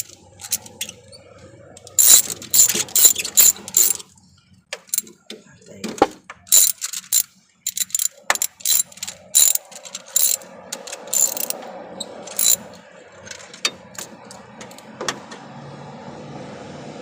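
A ratchet wrench turning a long spark plug out of a car engine makes rapid bursts of metallic clicking, stopping and restarting in short runs, close by.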